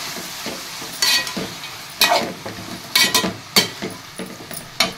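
Onions and tomatoes for vada curry sizzle steadily in a pan, with a spoon scraping and knocking against the metal in regular strokes about once a second, close and clear.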